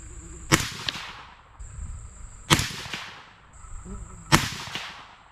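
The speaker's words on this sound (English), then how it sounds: "we're going to shoot the top left target dot down there." Three suppressed shots from a 22 DPC rifle firing 88 grain ELD-M bullets, each a sharp crack followed by a short decaying tail, spaced about two seconds apart at an outdoor range.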